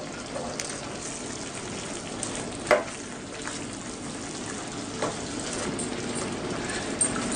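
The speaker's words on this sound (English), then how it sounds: "give it a nice mix." Aloo matar paneer with boiled peas and paneer frying in a pan, a steady sizzle and hiss with a few soft scraping knocks from stirring, no voices.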